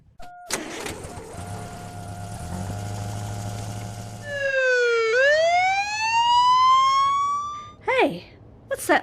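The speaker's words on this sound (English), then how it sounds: "Hey, what's that police car doing?" Police car siren sounding near a car on the road, starting after some engine noise with a sweeping rising wail, then short yelping bursts toward the end, loud and close.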